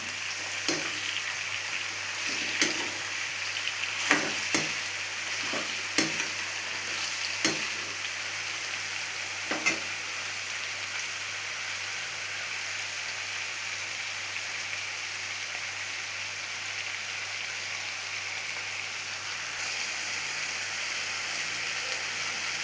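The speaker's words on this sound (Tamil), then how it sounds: "அடுத்து இந்த எண்ணெயில் நல்லா பரட்டி விட்டுக்கிடலாம்." Raw mango pieces sizzle steadily in hot oil in a pan, a continuous close frying hiss broken by occasional sharp clicks and scrapes of stirring, with no talking.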